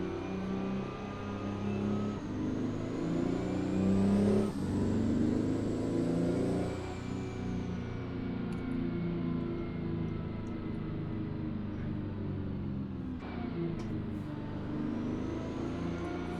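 Peterbilt 389 truck engine in American Truck Simulator drones steadily at low pitch throughout, with a few shifts in pitch as it pulls along, loud and close with no talk.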